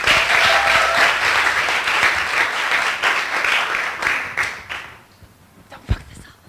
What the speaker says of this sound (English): Big round of applause for Doreen.